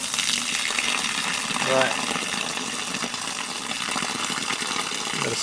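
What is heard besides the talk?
water gushing out of a hot water cylinder fitting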